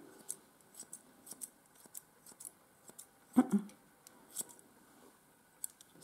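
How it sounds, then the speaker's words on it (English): Grooming scissors trim the leg fur of a Miniature Schnauzer with quiet, close, irregular snips, a few in quick clusters, plus a brief louder rustle midway, in an otherwise hushed room. "to make a nice feet, you use the scissors this way"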